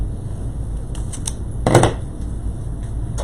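Scissors cut through glued ribbon while a Mardi Gras swag is being made, giving a single close snip-and-crunch amid a few light handling clicks over steady room noise.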